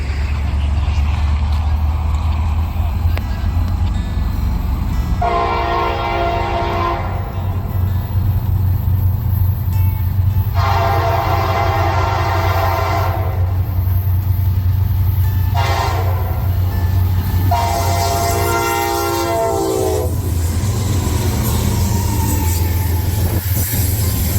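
Norfolk Southern SD60E diesel locomotive 6964 rumbles past with a steady low engine drone while its horn sounds in several loud blasts, two long and two shorter, close by.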